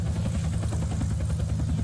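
Helicopter in the video game Unturned losing control and going down in a crash, its steady rotor and engine roar loud and continuous with a pulsing low thump throughout.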